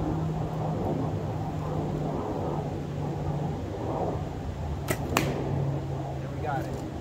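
An arrow loosed from a traditional bow toward a white balloon, with a sharp pair of snapping impacts near the middle over a steady outdoor hiss and low hum.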